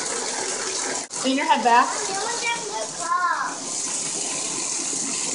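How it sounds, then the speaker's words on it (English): Water runs steadily from a tap over a woman's natural curls as conditioner is rinsed out during a deep-conditioning wash, a constant hiss beneath close talk. "We have her run her hair under the water."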